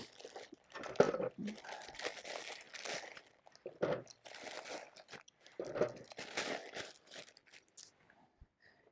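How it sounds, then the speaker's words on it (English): Dry ramen noodle blocks snapped and crushed inside a crinkly plastic bag for an ultralight backpacking cold-soak meal, a run of close, brittle crunches and crackles in irregular bursts with quiet gaps between. "to cold soak the ramen noodles, I just break them up really well so they can fit in there really easily"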